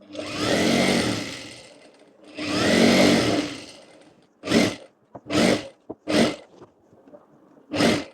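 A sewing machine stitches the top edge of a ladies' night suit, running in two long, steady passes and then several short, clipped bursts, close and fairly loud with no talking.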